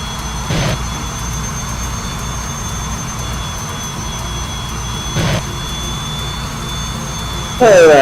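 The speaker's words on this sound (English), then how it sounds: "just kicking my afterburner in every now and again, and it's really annoying me" In a flight simulator game, a jet engine roars in a steady, loud, low drone, with brief bursts where the afterburner kicks in and a louder surge at the end.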